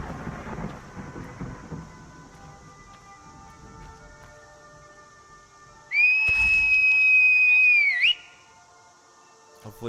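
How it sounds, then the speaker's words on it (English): A single sharp whistle call for a horse in the Skyrim video game rings out for about two seconds, loud and sustained with a rising end, after a stretch of quiet game ambience and faint rumble. "Might have to whistle a couple times."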